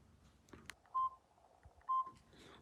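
Two short, clear keypad tones sound about a second apart as a code is entered on a Samsung keypad phone, with faint button clicks and handling noise between them.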